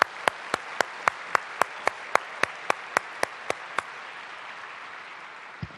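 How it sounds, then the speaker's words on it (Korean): Roughly a dozen sharp, evenly spaced claps at a prayer meeting for peaceful reunification, like a single pair of hands or a small group clapping in steady rhythm, fairly close, ending with a lone final clap after a short pause. "응답과 감사의 박수를 드리겠습니다."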